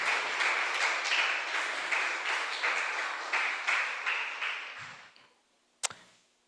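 A church congregation applauds in steady rhythmic clapping that holds for about five seconds, then fades, followed by a single sharp knock.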